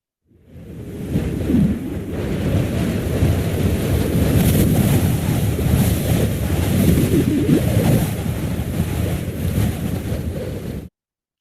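Strong wind roars and buffets continuously, a heavy rumbling gust that swells and holds steady before cutting off suddenly.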